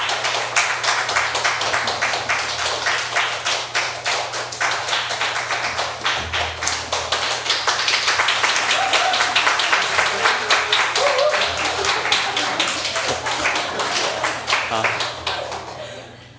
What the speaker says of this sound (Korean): 우리 박수로 환영하며 모시도록 하겠습니다